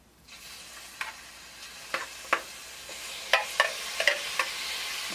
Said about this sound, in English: I'm gonna try to get these in here and start getting them browned